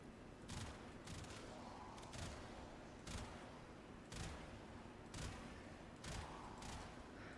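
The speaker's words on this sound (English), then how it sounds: "it does have a burst shot with infinite ammo" Bursts of sniper rifle fire from the Warframe Isleweaver weapon, loud repeated clusters of shots spaced about a second apart over steady game noise.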